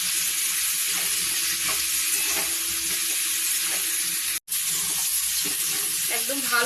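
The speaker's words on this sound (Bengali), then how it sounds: "অল্প একটুখানি জল দেব, দিয়ে আর একটু নাড়ব।" Masala frying in oil in a pan for a Bengali gathi kochu curry gives off a steady, dense sizzle as a little water goes in and it is stirred, with faint scraping throughout and a brief cut-out partway.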